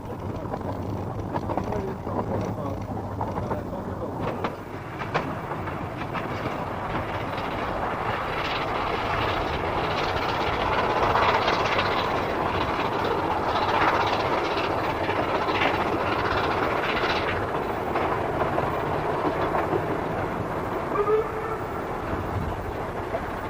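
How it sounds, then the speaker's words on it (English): A steam train on the Ffestiniog narrow gauge railway in Gwynedd rounds a long curve toward Boston Lodge Halt, giving a sustained rumbling roll with rising and fading clatter at a moderate distance. "The trains then sweep around a long curve and into Boston Lodge Halt."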